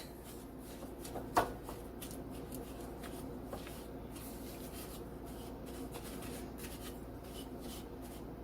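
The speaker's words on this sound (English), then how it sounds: "Then you're going to mix this until it's smooth." Sugar being mixed into brownie batter until smooth, soft repetitive scraping and rubbing strokes, quiet and close, with one sharper knock early on.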